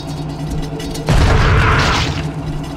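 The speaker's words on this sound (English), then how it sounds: "I don't really want to destroy the dynamite, but let's try this." An in-game dynamite blast in the horror shooter The Suffering, a single loud booming burst that hits suddenly and rumbles on for about a second before fading.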